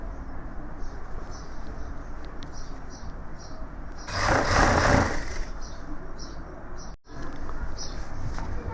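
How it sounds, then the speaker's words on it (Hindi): Sewing machine double stitching the hem of a gents' suit, a short loud whirring run of a second or so standing out over steady background noise and faint bird cooing. "हम डबल सिलाई कर रहे हैं"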